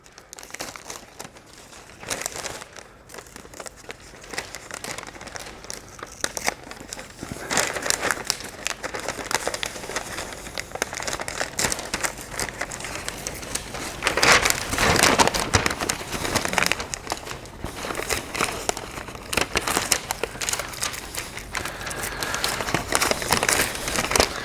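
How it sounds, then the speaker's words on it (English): Tape being peeled off a crinkling paper pattern while reshaping a rear guard panel for an Austin-Healey, giving a steady run of close, dry crinkles, tearing and crackles with no talk. "We'll take the tape out, Neil."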